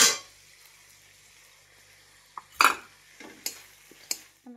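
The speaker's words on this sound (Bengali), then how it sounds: "এবার আমি লঙ্কাটা দিয়ে দিচ্ছি।" Chili goes into spices frying in a pan, with an opening burst of sizzle followed by sparse spoon clinks and scraping against the pan in a quiet kitchen.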